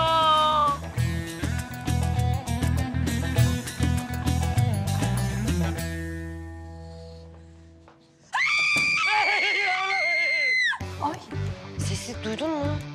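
After music fades, a high, drawn-out scream rings out from upstairs, shrill and sustained for a couple of seconds, followed by further tonal sound.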